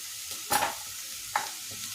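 Mixed vegetables for Bhogi bhaji, including carrot, beans, potatoes and jujubes, being stirred in a hot pan: a low sizzle with two distinct scraping clatters of the spoon.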